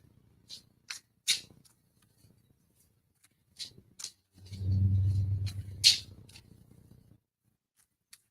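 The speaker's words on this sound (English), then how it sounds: "Sometimes I'll have to shuffle a couple of times" Tarot cards are shuffled once in a short, soft riffling burst near the middle, close and quiet, set between scattered small taps and clicks in an otherwise quiet room.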